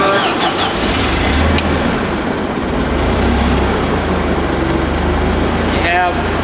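A Versa Lift engine is started in neutral and settles into an idle. It gives a loud, continuous rumbling drone close by, with a brief rising whine near the end.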